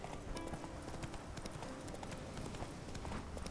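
Horse hooves clip-clop steadily along a road in The Witcher 3, the rider's mount Roach trotting through Skellige; a brief whinny may surface, and the rhythmic footfalls stay clear and close throughout.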